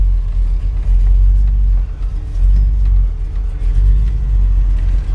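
A 1968 Chevrolet Camaro engine runs steadily as the car rolls off, a deep, loud rumble holding throughout with slight swells in revs and no talk.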